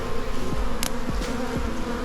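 A honeybee swarm clustered on a tree branch gives off a steady, dense buzz, with single bees zipping close past the ear now and then.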